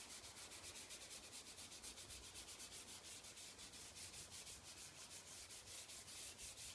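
Pencil or charcoal being rubbed in on paper for a mountain and cloud landscape drawing, a soft continuous scratchy rhythmic friction with repeated strokes, close and faint, no talk.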